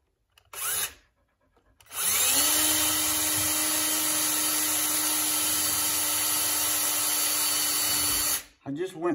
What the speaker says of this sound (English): I'm gonna drill this one right here